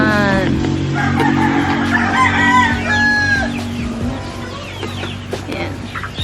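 A rooster crows several times over steady clucking from chickens on a farm, close and loud with a busy backdrop of other birds, and no voices.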